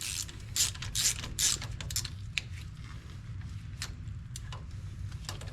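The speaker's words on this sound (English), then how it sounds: "You just got to loosen this bolt from the middle." A ratchet wrench loosens the middle bolt on a Ford Mustang brake caliper during track prep, with quick bursts of metallic clicking followed by sparser single ticks, close up and with no talking.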